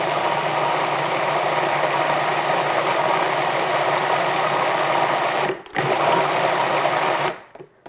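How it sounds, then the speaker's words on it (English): A blender purees strawberries, blueberries and yogurt with a loud, steady whir. It cuts out briefly near the end, starts again, then stops. "So what I'm going to do now is just simply puree this until it's a nice mixture"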